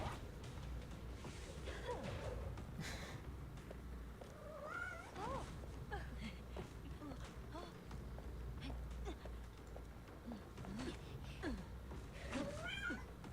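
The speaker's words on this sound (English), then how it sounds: "he meows a lot" A cat meows again and again at close range, with short rising and falling calls scattered over several seconds. The mewing is moderately loud over a steady low hum and some background noise.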